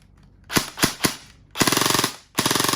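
Classic Army M4 Carbine RIS airsoft gun with an ABS body firing close up: three single shots, then two short rapid-fire bursts with a brief pause between, no talking.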